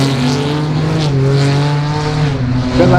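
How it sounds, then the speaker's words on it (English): A Ford Crown Victoria racing car drives a lap, its engine a loud, close, sustained drone whose pitch wavers and shifts as it powers around the track. "The Crown Vic gets there first."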